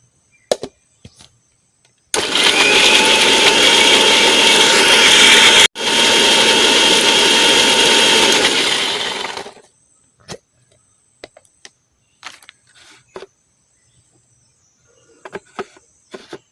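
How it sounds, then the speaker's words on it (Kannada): A mixer grinder loudly grinds mosambi pulp for about seven seconds, a steady whirring roar that cuts out for an instant midway and then winds down, framed by scattered small clicks and taps. "ಇದನ್ನು ಇನ್ನೊಮ್ಮೆ ಗ್ರೈಂಡ್ ಮಾಡುವ"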